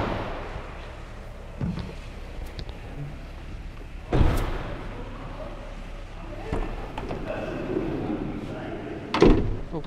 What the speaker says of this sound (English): Open this door up.